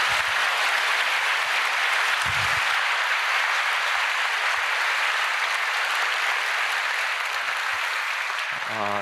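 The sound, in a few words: church congregation applauding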